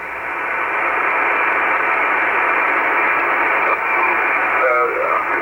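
An amateur radio receiver hisses with a dense, loud, steady band of static at the noise floor, and brief faint tonal blips near the end.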